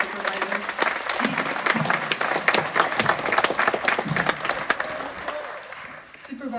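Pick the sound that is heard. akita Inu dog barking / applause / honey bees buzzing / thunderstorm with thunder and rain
applause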